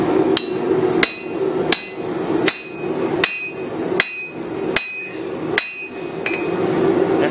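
Sharp metallic hammer strikes on hot metal at an anvil ring out one after another in a steady, unhurried rhythm while forging fireplace tongs, each hit bright and close with a brief ringing tail.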